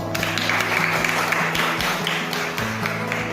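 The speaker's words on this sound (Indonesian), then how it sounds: "beri tepuk tangan untuk teman kamu." Classroom applause for a student, steady clapping from a group of pupils indoors, fairly loud and continuous over a low background tone.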